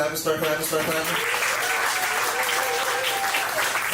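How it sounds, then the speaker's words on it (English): A comedy show crowd claps steadily as a stand-up contestant is brought on, the dense applause running throughout while a host's voice speaks over it. "Start clapping."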